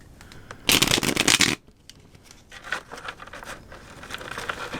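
Tarot cards are shuffled briskly in a loud burst of rapid riffling lasting under a second, followed by softer intermittent card handling and light shuffling sounds, close up with no talking.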